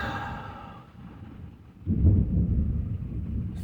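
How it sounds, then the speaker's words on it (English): Thunder rolls in from a distance, starting as a low, heavy rumble partway through and lingering as a broad, muffled growl, with a soft breathy sound before it. "It's thunder."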